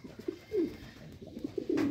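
A male Koka Bashiraj flute pigeon coos close by in a few short, low rolling calls, with quiet pauses between them and no voices.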